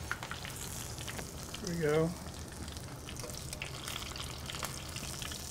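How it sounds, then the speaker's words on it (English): Onion rings fry on a Santa Maria grill with a soft, steady sizzle, while a brief tonal clatter rises midway and a voice speaks quietly. "Fry those onion rings."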